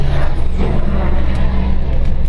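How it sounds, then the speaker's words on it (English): A 2013 Ford F350 pickup with a 6.7 Power Stroke diesel on eight tires, doing a burnout at a drag strip, gives a loud, steady, dense engine roar with tire noise that holds throughout. "Foot burnout of all eight of those tires"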